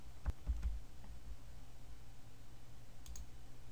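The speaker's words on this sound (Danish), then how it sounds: "Klik på knappen Åbn designpalette i nederste højre hjørne af skærmen." A few quick, faint mouse clicks near the start and another soft click near the end, set against a quiet room hum, as a button is clicked during a CMS design-palette screen tutorial.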